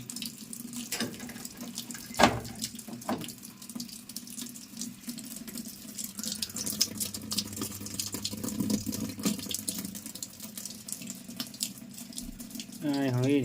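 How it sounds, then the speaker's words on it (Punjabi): Water flows and splashes continuously from a pipe, with a few knocks and faint voices in the background. "ਪਿੱਛੋਂ ਦਾ ਪੈਪ 'ਚ ਪਾਣੀ ਪੂਰਾ ਆ ਰਿਹਾ"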